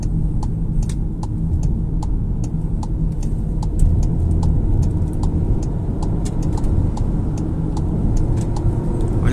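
A turbocharged 2023 VW Taos Highline engine roars loudly and steadily as the vehicle accelerates hard, a continuous powerful drone with rising intensity.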